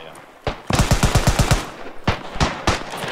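Chauchat machine gun in the World War I shooter Beyond The Wire, a rapid burst of about eight loud, close shots followed by a few scattered single reports, with players talking briefly over it.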